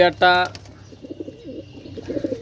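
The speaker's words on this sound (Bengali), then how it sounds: "অনেক সুন্দর কবুতর ভাই, অনেক সুন্দর।" Pakistani pigeons kept for sale coo in short, soft, rolling bursts close by, after a brief loud clatter at the start, with quiet room noise between calls.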